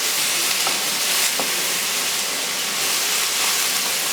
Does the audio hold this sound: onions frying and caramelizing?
yes